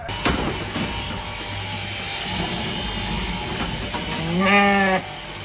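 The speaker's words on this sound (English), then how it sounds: "So I need to put all these ewes here and lambs in the yards out of the way" Cross ewes and lambs penned in farm yards, heard as a busy outdoor background with a clear bleat near the end, over a low steady rumble.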